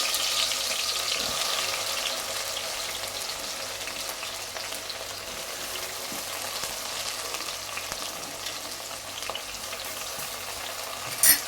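Tomatoes and onions frying together in hot oil for a fish curry, a steady, close hiss of sizzling that runs throughout with faint clinks, no talking.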